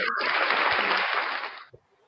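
A studio audience at a live comedy show breaks into loud, dense applause and cheering for a co-host, a close continuous wash of clapping that cuts off abruptly near the end.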